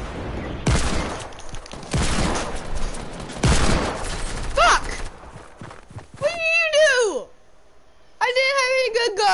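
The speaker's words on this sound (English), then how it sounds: "Guns." Gunfire in the video game Fortnite: several loud, sharp bursts of shots over the first few seconds, followed by excited voices talking near the end.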